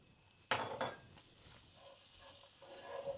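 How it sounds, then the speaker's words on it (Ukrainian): Butter drops into melting sugar caramel with almonds in a pan, giving a sudden loud hiss and clatter that quickly settles into a faint simmer with light stirring scrapes. "Я додаю вершкове масло."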